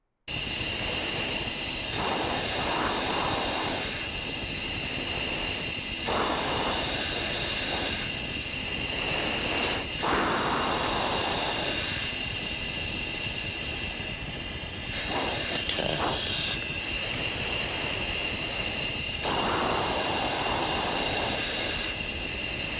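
A Blue Angels jet streaks over a canyon at around 600 mph, producing a loud, continuous broadband roar that swells and surges several times as it passes, with no voices heard.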